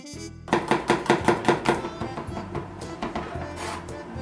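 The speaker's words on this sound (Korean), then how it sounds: "곱게 다져주겠습니다" A knife finely minces dumpling-filling vegetables like minari, zucchini, tofu and garlic on a cutting board, giving a close, loud, steady train of rhythmic chops that slowly fades.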